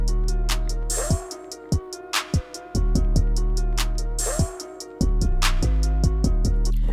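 A copied trap hi-hat pattern programmed in FL Studio ticks in steady rapid bursts over a loud beat with booming bass and snare hits, the hat rolls repeating through the loop.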